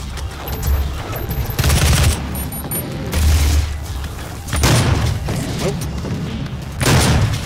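Enemy gunfire in DOOM bursts in repeated heavy volleys, with loud booming blasts separated by short gaps and mechanical clatter between them.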